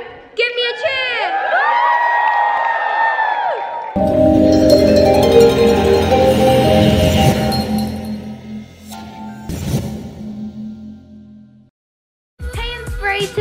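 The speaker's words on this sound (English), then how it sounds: "Give me a cheer!" Children and an audience cheer and whoop on stage at a kids fashion show in London, with excited shouting mixed among music and talk, then the noise cuts off abruptly.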